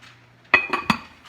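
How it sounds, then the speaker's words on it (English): A lid is set on a cooking pot for a loaded baked potato chowder, giving three quick close clanks and clinks with a brief metallic ring, over quiet kitchen background. "now we're going to place the lid on the pot"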